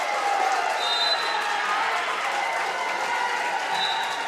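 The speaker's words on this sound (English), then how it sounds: "that applause you hear is the West Fargo Cheyenne faithful as Honert will move on" West Fargo Cheyenne fans applauding at a high school holiday wrestling tournament, a loud, steady wall of clapping from a crowd in a gym, sustained throughout with faint cheering mixed in.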